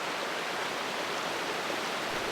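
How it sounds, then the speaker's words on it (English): Creek water splashing and bouncing down a steep, narrow spring valley, a dense, continuous broadband rush heard up close with no breaks. "Water splashing beyond that thin layer of warm air that sits right above the surface"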